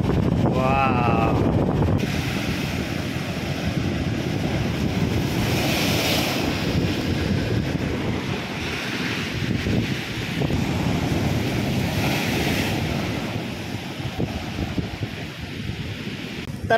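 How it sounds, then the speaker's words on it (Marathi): Strong surf pounds the Konkan coast between two villages during a high spring tide, a continuous loud roar of crashing waves with heavy wind buffeting the microphone throughout. "अक्षरशः तुफानी लाटा उसळलेल्या आहेत"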